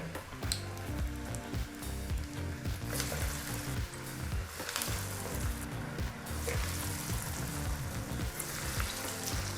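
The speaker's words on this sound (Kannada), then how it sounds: "ಈಗ ಇಲ್ಲಿ ಬಾಂಡ್ಲಿಗೆ ಎಷ್ಟಾಗುತ್ತೋ ಅಷ್ಟು ಡೀಪ್ ಫ್ರೈ ಮಾಡೋದಕ್ಕೆ ವಡೆಗಳನ್ನ ಹಾಕಾಯಿತು" Masala vada deep frying in a pan of hot oil, a dense steady sizzle and crackle holding close and loud the whole time, with no talk over it.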